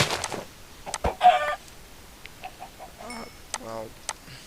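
Chickens clucking in the Minecraft Thaumcraft 6 modpack, several short game clucks and squawks scattered among blips and other game sounds, with a person talking at the start.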